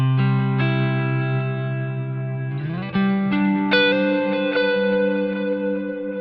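Guitar tone from a Line 6 Helix patch matched to a 1965 Fender Prince, drenched in ambient reverb: sustained chords ring and swell, a few new strums layered over long washy tails, steady and fairly loud with no talking.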